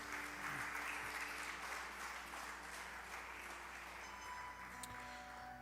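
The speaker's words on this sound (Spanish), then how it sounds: "Denle un fuerte aplauso a Jesús" A church congregation gives a strong round of applause during a service, a broad, steady roar of clapping heard from a distance, low in level, with faint tonal hums and a brief ping near the end.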